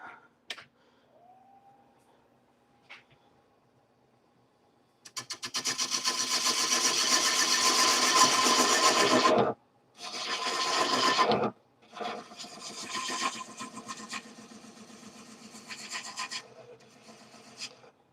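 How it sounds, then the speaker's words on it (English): A wood lathe spins as a turning tool shapes a piece of timber, a loud grinding, rasping scrape in long bursts with short pauses between them, after a quiet motor whine and a few faint knocks at the start. "As my lathe goes for a walk."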